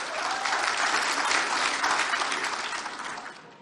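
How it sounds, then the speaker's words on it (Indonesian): Audience members at a public debate between Aceh gubernatorial candidates break into loud, dense applause that swells and then gradually tapers off. "Tepuk tangan yang meriah."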